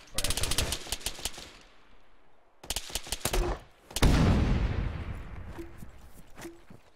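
Rapid bursts of video-game gunfire crack out loud and close in short volleys, pausing then resuming with a heavier blast, with brief voice chatter underneath.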